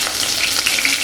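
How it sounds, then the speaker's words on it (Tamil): Curry leaves hit hot sesame oil with popped mustard seeds, a loud, close, crackling sizzle with sharp spits throughout the short burst. "கடுகு பொரிஞ்சிருச்சு. இப்போ கருவேப்பிலை போட்டுடலாம்."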